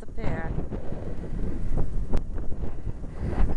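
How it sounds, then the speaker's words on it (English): Wind gusts across a Victorian seaside pier at Weston, buffeting the microphone in rough, uneven roars while someone talks over it. "You can feel the wind starting to get up again as I leave the protection of the pier."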